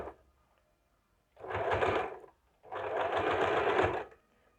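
A sewing machine stitches a princess cut blouse on embroidered fabric, running in two close bursts, a short one and then a longer one, separated by a brief pause.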